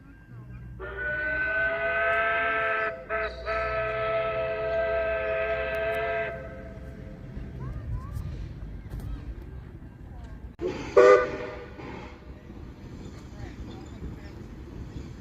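A train's long, loud sustained horn sounds for several seconds, then a shorter second blast follows amid low rumbling background noise.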